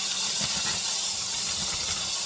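Battered fish strips fry in hot oil with a steady bright sizzling hiss, continuous and close, with no talk over it.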